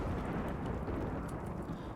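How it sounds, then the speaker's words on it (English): Steady rumbling thunder from a dry thunderstorm in the video game Rimworld rolls on as a continuous low, dense roar with no clear breaks. "Dry thunderstorm outside."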